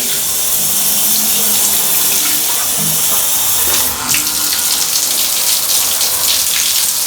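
Water sprays steadily from a Waterpik power spray handheld shower head onto a surface, a loud continuous hiss with a brief dip partway through and no talking.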